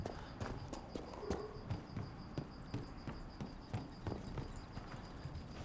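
Horse hooves clip-clopping in the video game Dragon Age: Inquisition, a quiet, regular walking rhythm of hoof beats over a soft bed of insect and cricket ambience.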